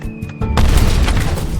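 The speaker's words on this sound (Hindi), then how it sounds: "एक और धमाका हुआ।" A bomb blast in a film: a sudden, loud, deep boom erupts after a short, quieter lead-in and rolls on as a sustained roar of rumble and debris.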